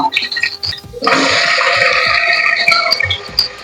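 Onions dropped into hot oil in a pan for chicken biryani give a sudden loud, steady hiss and sizzle that starts about a second in and carries on with crackle to the end, after a quieter frying sound.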